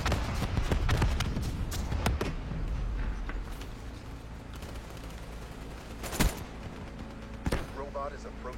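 Video game gunfire crackles in several short bursts, with a dense volley early on and two sharper shots later, all mixed under steady game background noise.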